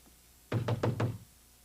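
Four quick, evenly spaced knocks on a door in a 1970s TV commercial, loud and close, standing alone with no talk over them.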